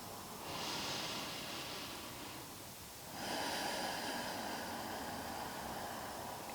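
Slow deep breathing during a yoga class, two long airy breaths: a rushing inhale followed by a softer pause, then another long exhale, close and clearly audible with no talking.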